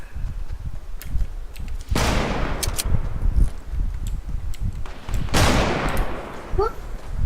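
Gunfire in the video game Fortnite, with two sharp, loud shot bursts, each trailing off into a noisy tail, over a busy game background with faint voice sounds.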